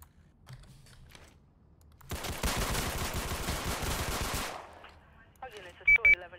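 A sustained burst of rapid automatic gunfire in a police video game, loud and dense for about two seconds, with quiet talk before it and short electronic tones after.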